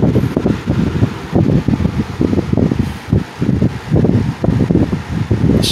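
A Wizard 6JC3020 box fan set in a window roars steadily as it pulls in air, a loud, close whooshing drone with fluttering pulses and no rattle.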